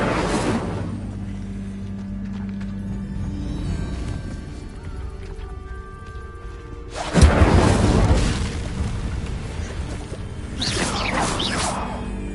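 Incendio fire spell cast in Hogwarts Legacy: a sudden loud whooshing burst that roars and fades, followed by a softer flaring swish, set against background game ambience.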